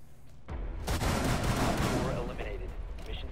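Semi-automatic shotgun fire in the video game Rainbow Six Siege, a rapid string of loud booming shots rolling together over a few seconds amid game noise.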